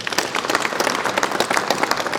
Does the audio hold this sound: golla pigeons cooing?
no